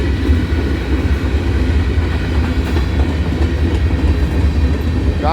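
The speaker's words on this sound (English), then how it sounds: "Big train going uphill, pushing real hard" A big freight train hauled by CP locomotives with engines pushing uphill rumbles loudly and steadily at close range, with wagons rolling past and faint wheel clatter throughout.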